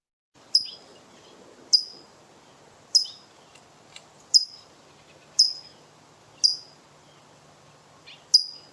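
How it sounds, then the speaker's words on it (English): A large sparrow calling: seven sharp, high call notes spaced about a second apart, clear and close over a faint, quiet background, with no voices. "Here is a recording of this bird's vocalizations by Steve Hampton."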